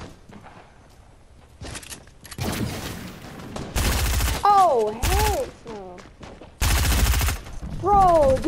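Gunfire rings out in the Fortnite video game, with dense bursts of rapid shots in several loud clusters between quieter moments and a whistling tonal effect, while a voice talks over it.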